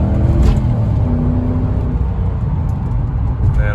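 A Mercedes C43 AMG V8 engine pulls at half throttle, a steady, loud, close-up drone that rises gently in pitch throughout, with no voices over it.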